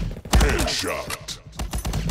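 Sniper fire in a multiplayer shooter video game: a sharp, loud shot near the start followed by a ringing tail and further busy, clattering game sounds and impacts.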